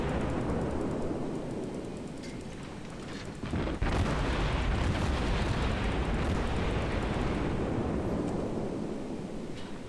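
Naval gunfire from the St Louis warship in a video game, a continuous heavy roar of booming blasts with a sharp burst near the four-second mark, loud and sustained throughout with no talking.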